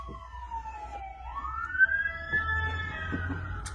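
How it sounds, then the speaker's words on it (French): Emergency siren passing along a street in the United States, its pitch sweeping and wailing continuously over low traffic rumble, fairly close and clear without any talking. "Il y a les ambulances qui vont passer."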